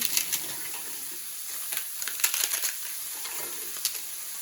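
Crushed tortilla chips stirred in a hot pan, with soft sizzling and intermittent crackly scraping as they are pushed around, close and fairly quiet.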